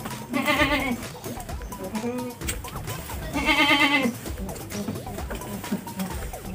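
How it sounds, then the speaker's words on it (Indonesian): Goats, part of a group of about 40 being sent off to Jambi, bleat loudly in repeated wavering cries, with two prominent calls standing out over a busy background of other animals and faint voices. "Hari ini kita mau mengirim kambing ke daerah Jambi, sekitar 40 ekor hari ini di sini."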